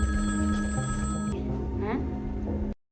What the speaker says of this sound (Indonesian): Gak berapa lama ada telepon yang berdering.